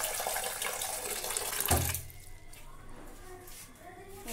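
Water gushing from a tap into a bowl for cooking Maggi noodles, a loud splashing flow that cuts off abruptly partway, leaving quiet room tone with a voice speaking softly underneath.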